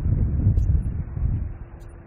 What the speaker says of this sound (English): Oh, a bit of a gust of wind coming down there.